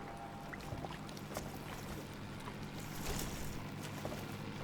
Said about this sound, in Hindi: मुझे इंजन की आवाज सुनाई दे रही है।